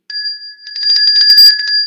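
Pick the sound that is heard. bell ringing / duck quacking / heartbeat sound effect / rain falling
bell ringing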